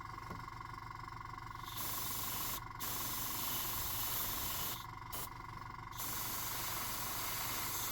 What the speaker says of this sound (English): So the airbrush is about 6 inches away, and we're going to very gently push down, trigger back, like that.